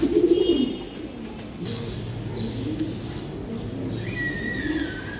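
Giribaz high-flying racing pigeons coo softly in a loft, a low murmuring coo at the start followed by quieter calls amid a steady background hiss, with faint higher chirps later.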